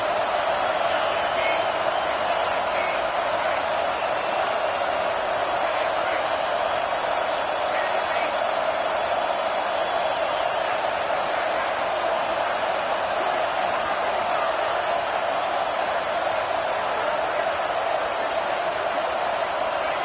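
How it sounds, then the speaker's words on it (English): Home crowd at a USC versus Notre Dame football game roaring loudly and continuously in a packed stadium, a dense, unbroken wall of cheering with a commentator's voice faintly underneath. "how nice is it to have the home crowd going absolutely bananas?"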